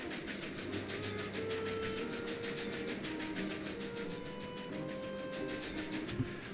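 A train runs in the simulation game Transport Fever 2, giving a steady, even rolling rumble with sustained whining tones that shift in pitch over about six seconds, heard alone with no talking.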